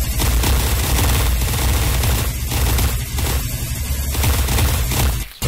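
Rapid, dense video-game gunfire rattles at irregular intervals in loud overlapping bursts, nearly continuous across the few seconds with a brief drop near the end.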